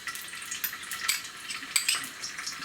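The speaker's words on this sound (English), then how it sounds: "in the oil I will put the ginger garlic paste first." Ginger and garlic paste hitting hot oil in a pan while preparing cauliflower firecracker, a close steady sizzle with crackling spits and light utensil clinks.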